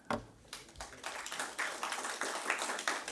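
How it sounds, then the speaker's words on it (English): Audience members in an auditorium clap together during a live experiment, starting scattered and quickly building into a steady, dense clapping that falls into sync. "Let us all start clapping."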